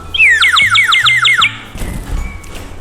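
A clay bird whistle imitating bird calls, bought as a souvenir while shopping at Tirumala, gives bright warbling chirps in a rapid repeated pattern for about a second and a half, loud and close, then stops.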